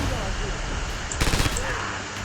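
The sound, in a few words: scoped rifle sniper shot in Red Orchestra 2 video game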